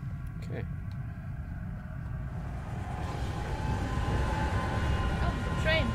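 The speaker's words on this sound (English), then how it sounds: "Oh, the train." A train rumbles in the Alice: Madness Returns video game, a low continuous rolling drone that swells louder in the second half, with a brief metallic squeal near the end.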